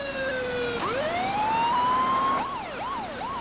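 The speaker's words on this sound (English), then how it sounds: "We responded to the call with lights and siren" An emergency vehicle siren wails loudly, sweeping up in a long rising tone, then switching to a rapid, repeated yelping pattern.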